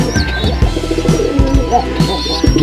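Pigeons coo repeatedly and loudly nearby in a steady rhythmic series of low throaty calls, with a few faint chirps in the background.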